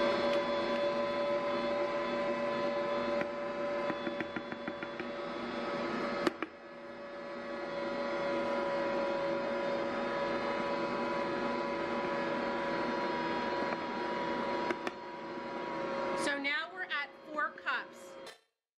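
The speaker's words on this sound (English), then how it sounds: "Now with my mixer running," An electric stand mixer runs steadily while white bread dough is made, a continuous close motor drone with tonal whine that continues under a voice talking, then stops near the end.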